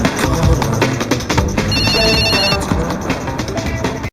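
A telephone ringing in a film scene, bright repeated electronic trills standing out over a busy, loud bed of other sound, fairly close and prominent.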